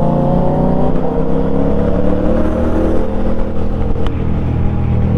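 A motorcycle fitted with an Akrapovic exhaust, its engine droning and revving steadily up close with a loud, continuous low rumble and slight pitch shifts, with no voices over it.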